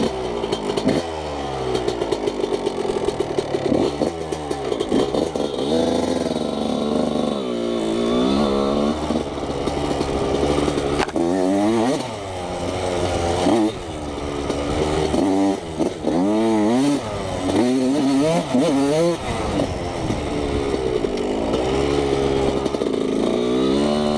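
A Yamaha YZ125 two-stroke dirt bike rides loose, soft dirt trails, its loud buzzing engine repeatedly revving up and easing off close by throughout.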